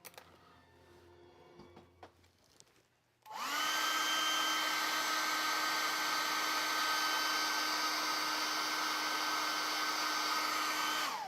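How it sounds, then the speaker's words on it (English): A blow dryer switches on abruptly after a few seconds of quiet handling noises, then runs loud and steady with a constant whine, drying paint on a tiny Metaluna Mutant miniature. "I think I'll just zap this with the blow dryer again."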